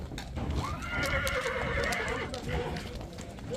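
Horses at a horse market in Jalal-Abad neigh, with one loud, drawn-out whinny rising and falling in the middle, plus hoof clip-clops and a busy outdoor background.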